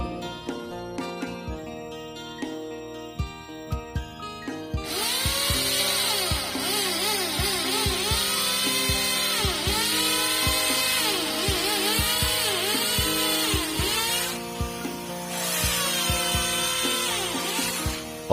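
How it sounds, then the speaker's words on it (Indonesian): A drill with a 10 mm concrete bit bores holes for mounting a light steel canopy, whining loud and steady over a rhythmic hammering clatter, with brief pauses between passes. "tinggal kita lubangi menggunakan mata bor beton ukuran 10 mili"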